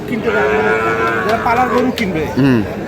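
Cattle low repeatedly at a busy livestock market in Chattogram, with overlapping moos near and far against a steady crowd murmur and brief background voices.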